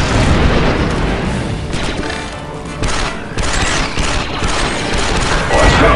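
A bomb detonates during a Republic Commando droid foundry mission, bringing loud rumbling blasts and roaring battle noise that swell and stay dense throughout, with a louder burst near the end.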